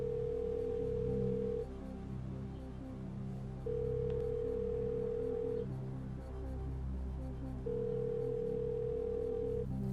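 On the Qui veut gagner des millions quiz show, a telephone ringback tone sounds over the studio's low background music, three long steady beeps separated by pauses, clear and even.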